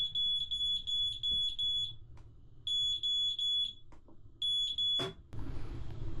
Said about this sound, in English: so you don't get the fire alarm going